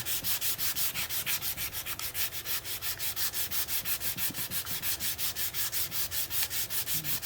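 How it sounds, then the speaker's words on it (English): Hand sanding a Mazda Miata valve cover with 400-grit paper, a steady rapid back-and-forth rasp repeating several times per second throughout, close and loud with no talking. "Now we're gonna just sand that a little bit more."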